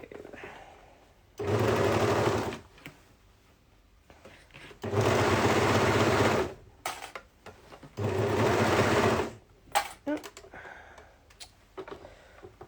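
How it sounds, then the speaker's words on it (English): A sewing machine stitches dress fabric in three steady bursts of about a second each. Each run is a loud, even whirr, with quiet handling of the fabric between runs. "So now we're just going to sew along the bits we've just clipped."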